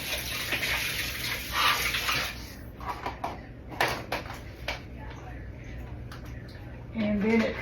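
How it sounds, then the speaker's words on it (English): A kitchen tap runs water while a hand is rinsed, a close, broad rush that eases off and returns, with a few clinks of dishes and a voice talking over it. "Let me rinse my hand real quick."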